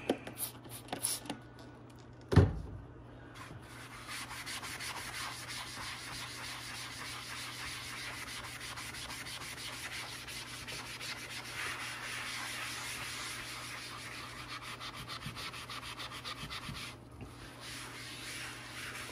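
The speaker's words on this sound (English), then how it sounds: "this is sandpaper, so you have to be very careful with it" Sandpaper rubs lightly over an Atari Paperboy arcade control panel overlay in a steady, soft scratchy rhythm, close up, after a sharp knock early on.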